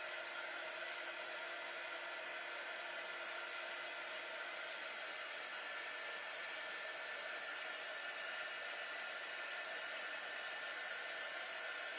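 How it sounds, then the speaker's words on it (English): A heat gun runs continuously while drying a printed tea towel, giving a steady, even, high-pitched fan hiss with no pauses and no voices. "use my heat gun and dry things off so that they don't smear"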